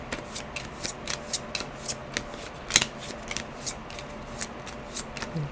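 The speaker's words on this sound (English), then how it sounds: "Now I'll shuffle." Playing cards from a small-box solo tabletop game are shuffled by hand, giving a steady run of short riffling bursts, close and crisp, with no talk.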